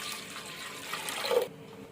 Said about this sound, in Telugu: తగినంత వాటర్ యాడ్ చేసుకుంటున్నాము.